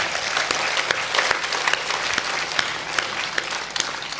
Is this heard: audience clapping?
yes